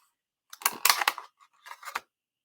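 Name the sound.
scissors cutting a paper flourish for a card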